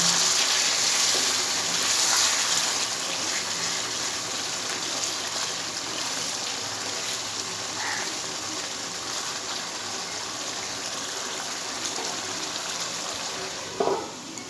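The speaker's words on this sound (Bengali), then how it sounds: "এর মধ্যে আমি একটু গরম জল দিয়ে দেবো, যেটাকে 5 মিনিট আরও কষিয়ে নেব।" Hot water poured into a pan of masala chicken, a steady broad sizzling hiss throughout with a brief louder splash near the end.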